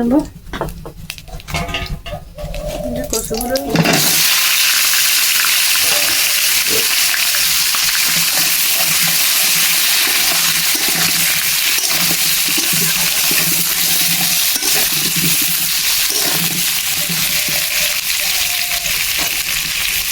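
Taro pieces frying in hot oil for a Bengali taro fish curry. After a few quieter seconds that seem to hold some voice, a loud, dense, steady sizzle takes over and continues without a break.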